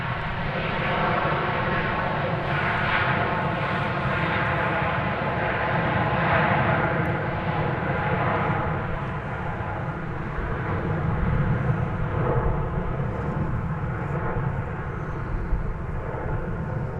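An American Airlines airliner at DFW Airport, a steady loud jet engine roar holding for the whole stretch with a slight swell and fade, no voices.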